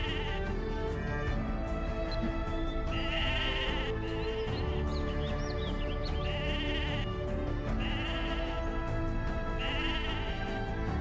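Sheep in the video game Mabinogi bleat repeatedly over a loud continuous game music backdrop, the calls coming at regular intervals through the scene.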